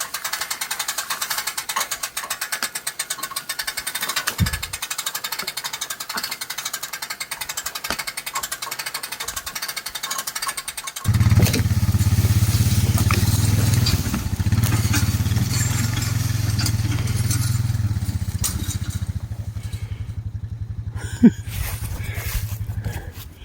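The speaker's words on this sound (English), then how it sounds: "Winching a log." A winch pulling a log off a pulley outdoors, with rapid ratcheting clicks at first, then a louder, steady grinding drag with a sharp knock near the end.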